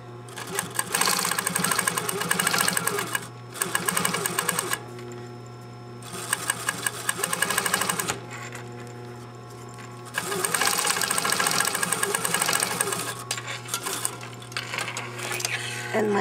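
A sewing machine top stitching the binding on a shirt sleeve runs in several loud, close bursts of rapid stitching separated by short pauses, with a steady low hum throughout.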